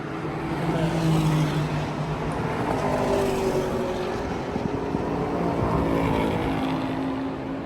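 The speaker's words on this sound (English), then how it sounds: "That's me passing another Porsche." A car passes another Porsche at speed on the Circuit of the Americas track during a track day, a steady engine drone with rising and falling pitch sweeps, loud and continuous throughout with no talking.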